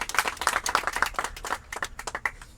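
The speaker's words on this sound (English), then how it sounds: "If you want to go ahead and applause, go ahead and do that" A small audience at a gathering of the Universal Studios family claps in a sparse burst of distinct, unsynchronized handclaps that thin out over a few seconds, close and moderately loud, with no talk.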